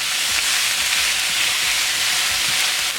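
Spinach wilts down in a hot pan with a vegan home-cooked dish, making a dense, even hiss of sizzling that stays loud and constant throughout, with no talking.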